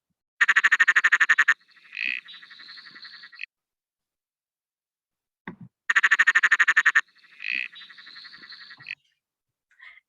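A Perrin's tree frog (Litoria perroni) gives two loud, near calls, each a rapid pulsed rattle followed by shorter chuckling notes, like an expansive laugh, with quiet gaps between them.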